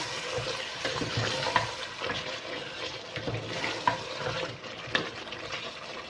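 Chicken biryani ingredients, including browned onion and potatoes, are stirred in a cooking pot, giving soft scraping and light sizzling with a few sharper clinks of the utensil against the pot.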